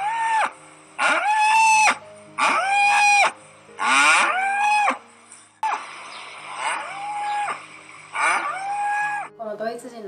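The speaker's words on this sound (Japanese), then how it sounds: "母親の牛は子供が連れ去られた方角を見ながら、何度も何度も何日間もの間全力で泣き叫び続けます。" A mother cow separated from her calf moos loudly and repeatedly, giving about seven long, strained bellowing calls in quick succession, close and alone.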